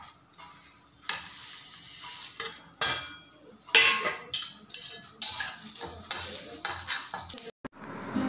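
Dry spices for a urad dal kachori filling are roasted and stirred in a pan, giving repeated scraping and clinking of a spoon against metal in uneven bursts, fairly close, with no talking.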